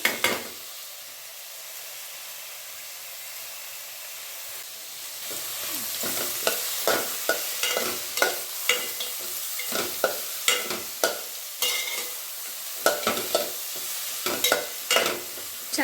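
Cloves, star anise, cinnamon and pepper roast in a pan: a faint, quiet hiss at first, then a run of dry, rhythmic scraping strokes as the spices are stirred, close by and without talking.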